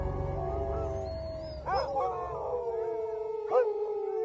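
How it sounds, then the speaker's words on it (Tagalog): A dog howls at night, long wavering drawn-out cries that rise and fall, with a second howl starting partway through, close and clear over a quiet background. "Nakakilabot naman ang alulong ng asong yun."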